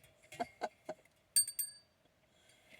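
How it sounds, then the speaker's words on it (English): A small hand bell rung during a paranormal ghost-hunting session: a quick cluster of bright, ringing chimes midway, close and fairly clear, preceded by a few light taps and fading into near silence. "oh, I've got a bell you can ring"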